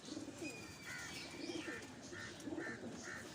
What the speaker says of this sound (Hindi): वन टेल का ये कबूतर है